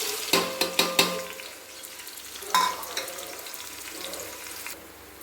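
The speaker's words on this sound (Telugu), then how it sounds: "కట్ చేసుకున్న ఉల్లిపాయలు, పచ్చిమిర్చి వేసేసుకుందాం." Chopped onions and green chillies hit a hot pan in a lamb curry, a burst of several sharp clattering drops followed by a steady close sizzle with an occasional stir, fading slightly at the end.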